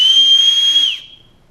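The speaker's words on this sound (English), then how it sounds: "We've got a whistle right here" The whistle on a SOL Phoenix survival tool gives one steady, shrill blast lasting about a second. It is loud and close, then cuts off abruptly.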